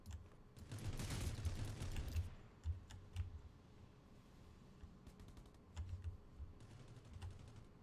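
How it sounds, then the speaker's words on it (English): Gunfire from the video game Rules of Survival comes through as bursts of quick, crisp shots: a dense volley early on, then scattered short clusters, all faint and in the background with no talk. "Shooting."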